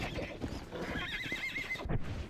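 A horse in Red Dead Redemption whinnies with a rising, wavering neigh over soft hoof clops, close by and brief.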